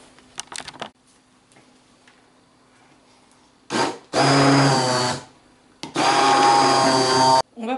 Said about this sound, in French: On va venir mixer la préparation au mixeur plongeant.